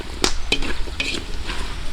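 Chopsuey vegetables, among them broccoli, cauliflower and corn, sizzle in a pan outdoors as they are stirred, with a few clacks of the utensil against the metal over a steady close frying hiss.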